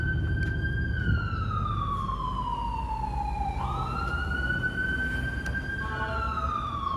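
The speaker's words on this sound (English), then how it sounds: "Another ambulance coming." An ambulance siren passes along a city street in Washington, D.C., its wailing tone sliding down and back up over steady traffic rumble, loud and close throughout.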